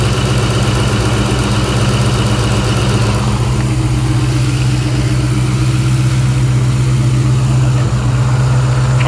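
A Ford SVT Cobra engine idles after a cold start, giving a steady, loud, rumbling drone with a constant even pulse and no pauses, heard alone up close.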